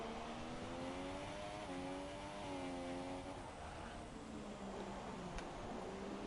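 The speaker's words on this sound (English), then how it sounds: "you can hear the understeer, you can hear the car sliding through those corners" F1 2017 race car in a United States Grand Prix game race, its engine whining steadily with rising and falling pitch as it understeers and slides through corners, loud and continuous under a faint voice.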